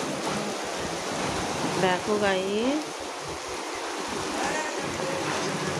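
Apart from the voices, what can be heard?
heavy rain pouring, water flooding balcony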